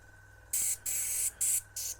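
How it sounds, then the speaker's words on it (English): A compressor-fed Gaahleri Mobius SP airbrush sprays fluid in four short, sharp hissing bursts of about a quarter to half a second each, close up over a faint low hum. "Let's get some fluid in the jar and see how it sprays."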